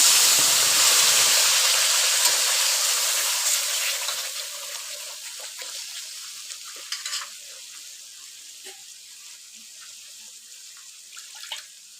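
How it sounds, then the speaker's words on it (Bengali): Ground spice paste for a rohu fish curry dropped into a hot pan, opening with a loud bright sizzle that gradually fades to a quieter simmer with occasional clicks and spatters, no talking. "ভাজা হয়েছে পেশ করা মশলাটা দিয়ে দিলাম"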